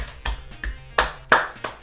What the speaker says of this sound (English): applauding himself on that one.